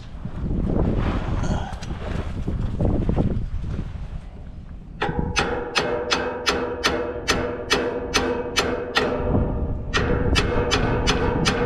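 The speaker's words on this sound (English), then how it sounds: "Apologize for the wind here." Wind buffets a microphone outdoors during a Ford Super Duty front-end rebuild, a loud continuous rumble, joined midway by a rapid series of sharp metallic hammer-like strikes.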